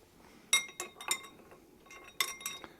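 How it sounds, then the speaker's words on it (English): A spoon stirs an Old Fashioned cocktail in a glass, giving several bright clinks against the glass in an uneven rhythm, close and quiet with no voices. "And we'll give that a little mix again."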